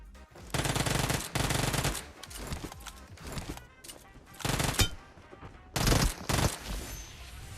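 Gunfire from a weapon in PUBG Mobile, loud rapid automatic bursts rattling out in several long strings with short gaps between them, up close and dominating everything else.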